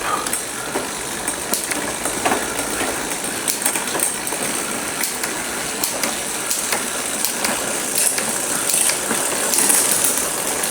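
A bicycle derailleur shifts the chain down and back up across the rear sprockets, giving a run of sharp mechanical clicks and a light chain rattle close by, with no voices.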